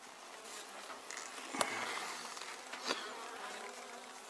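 Honey bees in a hive with many dead bees after their first winter buzz continuously in a soft, busy swarm drone, punctuated by a couple of sharp clicks.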